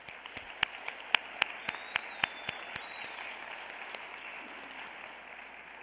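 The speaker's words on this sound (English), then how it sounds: "Can we please give them another round of applause?" An audience at a 2020 Teacher of the Year celebration applauds the honorees: a soft bed of clapping with a string of sharp, close claps standing out early on before the sound settles into a quieter, even patter.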